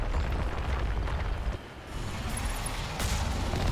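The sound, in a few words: cannon shot in the video game Mass Effect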